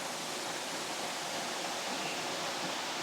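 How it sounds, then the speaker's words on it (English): Lower Piney Falls in Grandview, Tennessee, a steady broadband roar of falling water that stays loud and even from start to finish, with no voices over it. "here's the waterfall right there"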